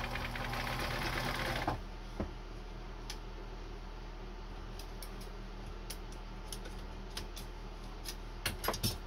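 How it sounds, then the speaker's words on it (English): A Bernina sewing machine stitches back over a seam in thick denim, a loud, fast mechanical whir at first. It then goes quiet into soft ticks and clicks. "Sew right back over that seam again."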